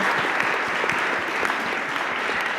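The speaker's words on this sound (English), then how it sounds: "please join me in an applause for our panelists for this really rich discussion" Audience at an academic panel discussion on irregular migration applauds the panelists, a steady wash of many hands clapping throughout, moderately loud with no speech over it.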